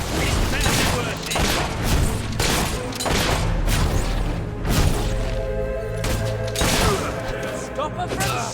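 Repeated gunfire with loud, irregular bursts of shots and impacts in a Fable III battle, mixed with game music and clanking over roughly eight seconds.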